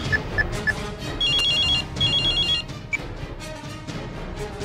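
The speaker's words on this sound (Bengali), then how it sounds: "তোর বাবার কাছে একটু ফোন করি" A telephone rings in a film scene, with repeated electronic trilling bursts in two clear rings, each about a second long, over background music and ambient noise, loud and close.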